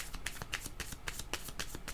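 Tarot cards being shuffled by hand, a quick run of crisp riffling flutters and light taps in an even rhythm, close and soft, with no talking.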